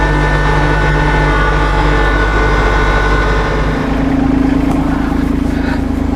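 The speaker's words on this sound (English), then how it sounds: "Blowing snow uphill on the steep hill and not getting stuck." A Kubota LX2610 compact tractor with a front mount snow blower and tire chains works uphill on a steep snowy slope, a loud continuous engine drone with a whining blower tone rising partway through.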